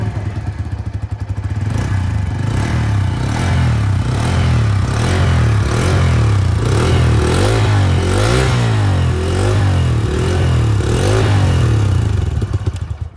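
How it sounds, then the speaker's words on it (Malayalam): Bajaj CNG motorcycle exhaust note, the world's first CNG bike, a steady loud engine running close by with repeated rhythmic revs rising and falling for about ten seconds, no talking. "അപ്പം നമുക്കിതിൻ്റെ എക്സോസ്റ്റ് നോട്ടൊന്ന് കേട്ട് വരാം."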